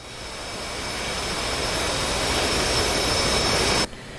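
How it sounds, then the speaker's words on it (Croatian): An F/A-18C jet engine in DCS World throttles up to full power on a carrier catapult launch bar, a loud broad roar that swells steadily before cutting off abruptly near the end. "Znači pojačat ćemo snagu motora do kraja"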